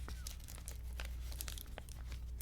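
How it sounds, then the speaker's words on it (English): Soft crinkling and crumpling of a crinkly material held close, a continuous gentle stream of small crackles with occasional sharper crackle bursts, quiet and intimate. "just listen to the crinkling and relax"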